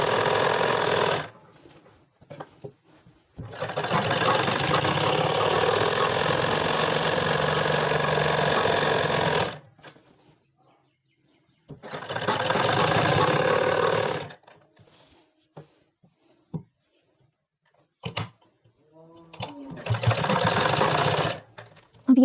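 Sewing machine stitching a half-inch seam on a women's trouser, running in several bursts of steady, fast motor whir and needle clatter separated by quiet pauses.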